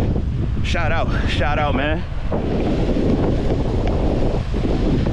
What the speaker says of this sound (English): Nice and windy by this water too, if y'all can hear me,